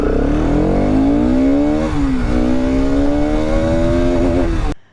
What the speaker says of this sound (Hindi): और पहले लो एग्जॉस्ट का मज़ा।